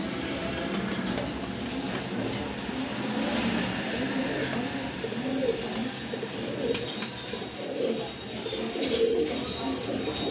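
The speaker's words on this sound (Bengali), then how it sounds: "এখানে আরও 2 পিস কবুতর রয়েছে, এক জোড়া কবুতর" A pair of Rajgolla pigeons, coffee-coloured, coo in soft repeated low throaty phrases close by, over a busy background hum.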